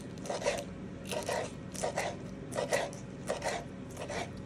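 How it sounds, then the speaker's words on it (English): A knife saws and scrapes through crisp chicken skin in short repeated strokes, close and fairly quiet, about seven rhythmic cuts. "I'm cutting them into little chunks"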